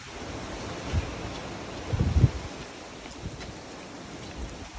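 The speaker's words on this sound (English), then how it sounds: "it is really windy and really cold out there" Steady outdoor wind roaring and buffeting the microphone on a cold day during basketball shooting drills, with a couple of louder gusts and low rumbling thumps partway through.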